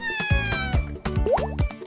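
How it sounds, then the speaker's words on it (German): Several kittens meow in quick succession, high wavering cries overlapping close by, with a faint plop and brief rustles between calls. "Es kommen noch viele Kätzchen."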